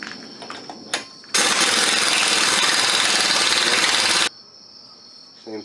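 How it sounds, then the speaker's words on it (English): An impact wrench buzzes an axle nut onto a new hub assembly on a 2000-2006 Chevy/GMC Suburban or Tahoe, giving one loud, steady burst of about three seconds with quiet garage sounds on either side. "We're going to buzz it on with the impact"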